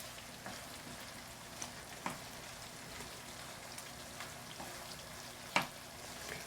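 Chili peppers and mushrooms frying in oil for gambas, a steady soft sizzle with scattered pops and crackles throughout, moderately quiet and with no talking.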